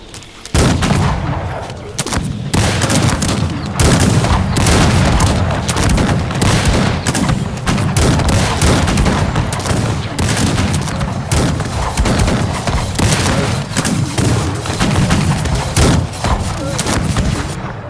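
Cannon fire in a historical strategy battle game, a continuous roar of booming artillery and gunfire volleys, loud and dense throughout with no pause.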